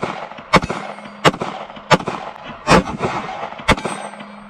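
Kimber Micro 9 9mm pistol fired at a range, five sharp loud shots spaced roughly a second apart with brief echoing tails between them, no speech.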